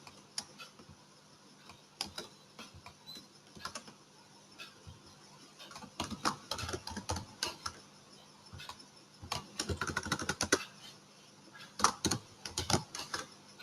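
Computer keyboard typing while code is written, with irregular bursts of quick, light key clicks and pauses, fairly close and quiet, with no talking.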